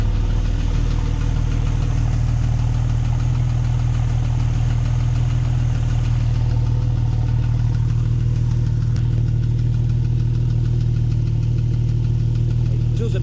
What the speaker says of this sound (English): there is a light ticking from this engine